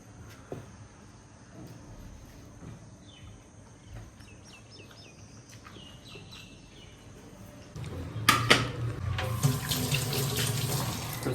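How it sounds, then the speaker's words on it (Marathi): A kitchen tap runs while dishes are washed, quiet at first with faint birdsong in the background, then a louder, close gush of water with clinks of utensils toward the end. "तर चला फटाफट भांडे धुवून घेऊया"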